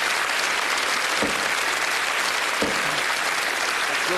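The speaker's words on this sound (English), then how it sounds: "Please give him a warm round of applause as he throws for charity" Steady, loud audience applause fills the room for darts player Paul Lim at a televised darts game show, continuous clapping with no talk over it.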